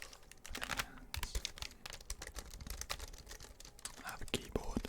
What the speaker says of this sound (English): I currently have a keyboard within my hands.